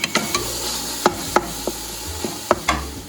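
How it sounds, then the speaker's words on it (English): A pound of ground beef sizzling with garlic in an Instant Pot, a steady fry hiss broken by sharp spoon clacks and scrapes at irregular intervals, close and clear. "So now I'm gonna go ahead and throw in our 1 pound of ground beef."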